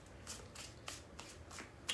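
A deck of tarot cards is shuffled in quiet, brisk riffles, about six soft fluttering bursts in a steady rhythm, close and faint with no voices.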